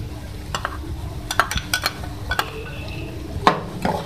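Chopped onion and green chillies being mixed into a keema filling for kachori: a string of sharp spoon clinks and scrapes against the pot over a soft background hiss, near and without talk.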